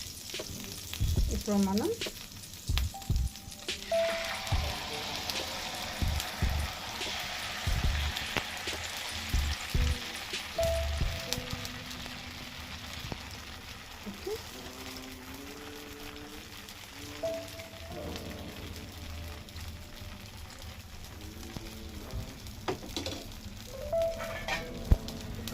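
Dosa sizzles and fries on a hot pan in a home kitchen, a continuous crackling hiss with occasional scraping and clinks, while someone talks intermittently over it.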